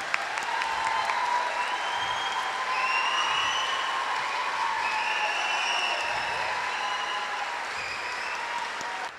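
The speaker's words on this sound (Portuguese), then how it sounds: "eu peço uma salva de palmas para o meu time" An audience at a school technology forum gives a health team a round of applause, sustained, even clapping heard fairly close with some voices underneath.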